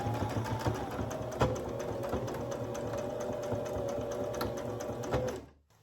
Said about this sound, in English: I'm going to want to give that a back stitch for sure.